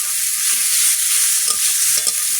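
Stirring in hot oil while Bengali fish curry cooks with chaarapona fish, a steady bright frying hiss throughout with a few soft scraping stirs near the end.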